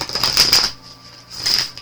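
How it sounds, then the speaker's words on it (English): Two quick bursts of riffling cards, close and crisp, separated by a short pause. "So I'm going to go ahead and shuffle"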